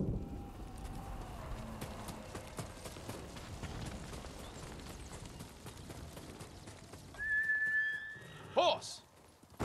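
A horse in the Ghost of Tsushima video game clip-clops at a steady gallop under a voice talking throughout, then gives a brief neigh near the end.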